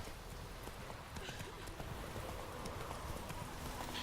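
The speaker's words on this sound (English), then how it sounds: "I'm going to call my horse." Horse hooves clip-clopping at a steady gallop in the Witcher 3 video game, a continuous close rhythmic beat with a brief whinny, under a voice talking.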